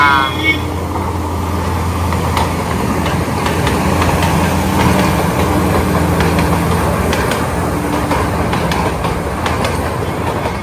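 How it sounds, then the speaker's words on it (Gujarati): A train rumbles past continuously with clattering wheels and a steady loud roar, with faint voices mixed into the noise. "અહીંયા ટ્રેન આવી ગઈ છે"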